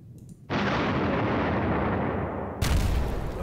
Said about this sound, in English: Nope, artillery.